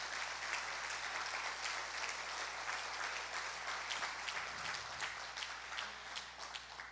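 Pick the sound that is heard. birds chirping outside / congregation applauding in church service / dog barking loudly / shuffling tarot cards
congregation applauding in church service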